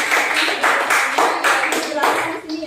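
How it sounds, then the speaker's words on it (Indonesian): Students in a classroom clap for a classmate in short rhythmic bursts, a lively group applause with distinct pulses repeating about twice a second, lasting under three seconds. "beri tepuk tangan untuk Hidayatul."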